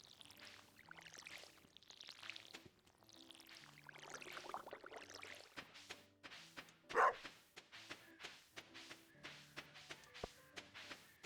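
A dog barks once, close and sharp, over a quiet indoor background with faint clattering and footsteps.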